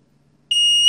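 A Tuya smart Wi-Fi smoke detector being tested goes off with a sudden, piercing high-pitched alarm tone after a moment of near silence. The tone is very loud, close and steady.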